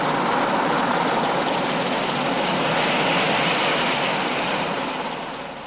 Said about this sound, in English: I was airlifted to Morocco's front lines by Army helicopter.